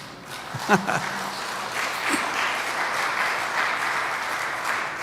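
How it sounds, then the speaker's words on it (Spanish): Church congregation applauding during a Spanish-language sermon, a steady wash of clapping from a sizeable crowd that swells after a brief voice and holds evenly for about five seconds. "¿Cuántos le dan un aplauso?"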